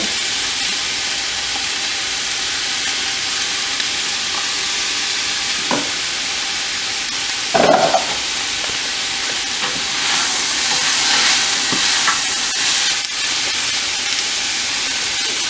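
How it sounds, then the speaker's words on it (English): Fresh garlic sizzling in a pan while kidney beans are cooked: a continuous hissing fry that swells louder toward the end, with a few brief clatters of stirring. "Then my garlic, my fresh garlic, I'll put a little bit of it in it also."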